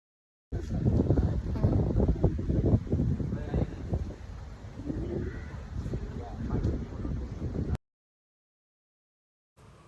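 Steady outdoor wind at a seaside promenade in Kochi buffeting the microphone for several seconds, with a low rumble and faint background activity, then sudden silence.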